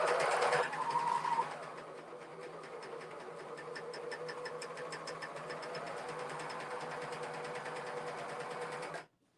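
Serger sewing a cover hem, a steady rapid mechanical stitching whir with fine rhythmic ticking, close and continuous after a brief louder start, then stopping abruptly.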